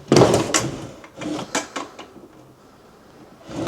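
Wooden dresser drawers being pulled open and pushed shut in a wrecked, abandoned Gothic mansion in Carolina, a few close knocking and sliding bursts with pauses between them and no talk.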